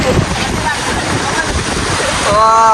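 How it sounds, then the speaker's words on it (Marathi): Adai Waterfall near Panvel, swollen in the monsoon, gives a continuous broad rush of falling water beneath people talking nearby. "इथं बघा तिथे धबधबा आहे."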